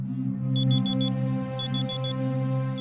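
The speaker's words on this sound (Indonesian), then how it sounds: "mendengar suara alarm handphone dari ruangan paling kanan" A phone alarm beeps in two quick groups of four chirps over a steady low hum, clear and moderately loud.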